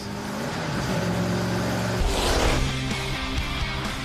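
A sports car with a 6.8-litre V8 engine passes close by, its engine drone rising and shifting pitch as it accelerates past in a loud, continuous sweep.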